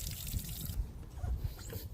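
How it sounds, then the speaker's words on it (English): Garden hose water flows through a flushing muff on an Evinrude E-TEC outboard, a steady close splashing trickle with small gurgles and drips, no engine yet. "we need to turn on the water and make sure that it's flowing properly"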